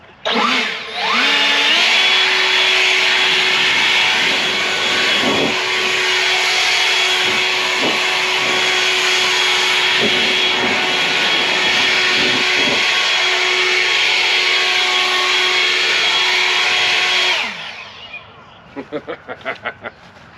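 A battery-powered EGO leaf blower run at full throttle with turbo, a loud, steady, high-pitched whine and rushing air held for about fifteen seconds before winding down, followed by a few sharp clicks.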